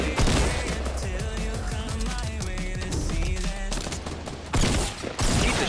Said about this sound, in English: Damn it, I was just shooting.